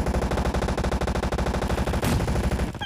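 Automatic gunfire in the shooter video game PUBG Mobile during a team deathmatch: loud, close, rapid bursts that run almost continuously, with a brief sharp crack near the end and no talking.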